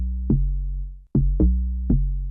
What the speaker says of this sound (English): A loggy kind of deep sub-bass that leaves a lot of room for other synth elements and grooves